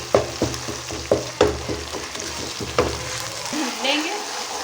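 Cumin, garlic-ginger paste and crushed green chillies sizzling in hot oil in a cooking pot, with a steady frying hiss broken by several sharp spatter bursts and soft stirring clatter, close up, no talking.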